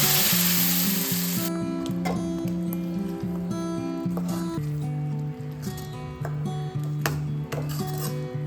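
Shallots, red chillies, curry leaves, garlic and masala fry in hot oil, a steady loud sizzle throughout, with a burst of spattering at the start and occasional scraping taps from a ladle against the pan.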